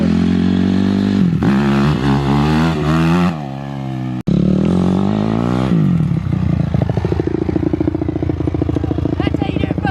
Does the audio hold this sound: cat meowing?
no